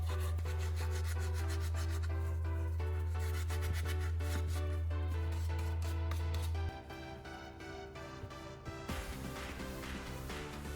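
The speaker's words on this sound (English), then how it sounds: "use sandpaper to lightly sand the terminals and expose a cleaner metal surface" Sandpaper scrapes across battery terminals in quick, close, rhythmic rasping strokes. The sound is steady at first and then lighter and more broken toward the end, with no talk.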